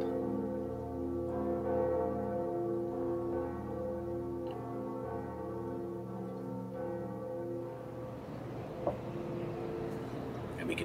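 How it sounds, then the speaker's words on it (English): The second bell ringing in Dark Souls Remastered, a sustained resonant bell tone with rich overtones that fades into a noisier rumble near the end, with no talking. "we can hear it ringing in conjunction with the undead church"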